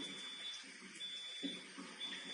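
Water from an Enagic Kangen Water unit flushes out in a faint, steady stream, with a thin high electronic tone running above it at intervals.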